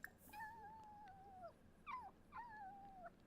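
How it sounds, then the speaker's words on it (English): Puppy in a life-simulation building game whimpering and yipping in three high, wavering cries, each falling in pitch, over a faint background hum. "Oh yeah, it's a male puppy."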